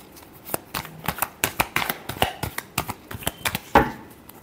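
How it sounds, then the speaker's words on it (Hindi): A deck of tarot cards being shuffled in a series of crisp riffling bursts and flicks, fairly close and moderately loud, with no one talking over it. "last shuffle"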